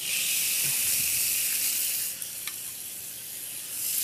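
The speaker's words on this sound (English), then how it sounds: "And there is my wonderful sizzle" Steady, close sizzling hiss of a brown-sugar-rubbed ribeye steak searing on a hot grill, loud and continuous with faint crackles.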